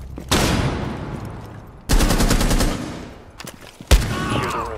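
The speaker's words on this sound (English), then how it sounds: "Flashbang out!" A flashbang grenade goes off in a tactical shooter video game, with sharp loud bangs and bursts of gunfire-like blasts followed by a ringing, decaying rumble.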